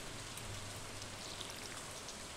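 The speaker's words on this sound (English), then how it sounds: "Today it's raining, even though it's bright and sunny out there." Steady rain in the Stardew Valley video game, a soft, even hiss of falling drops that stays constant and faint throughout with no voices.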